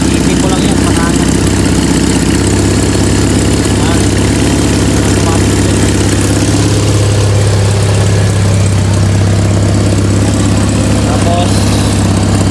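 Toyota 5K engine idling steadily in a workshop while its air-fuel mixture screw is turned, a continuous low rumble with someone talking over it.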